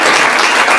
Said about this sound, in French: Mpolé, qui est notre représentant à Genève, que je voudrais également saluer, qu'on peut applaudir.